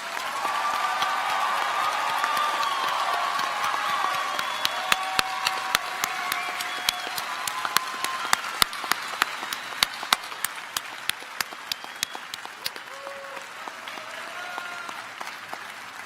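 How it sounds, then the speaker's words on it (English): Sustained applause from a graduation ceremony audience honoring the Class of 2025 at a medical school white coat ceremony, steady clapping filling the room with sharper individual claps standing out, tapering slightly toward the end. "Let's have a round of applause for the class of"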